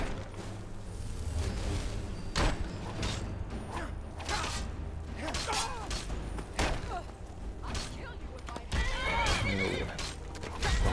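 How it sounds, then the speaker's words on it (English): In Skyrim, a horse whinnies and neighs loudly during a fight, with clopping hooves, thumps and creaking gear around it; the neighs recur several times, close and prominent over the game's ambience. "My horse getting involved."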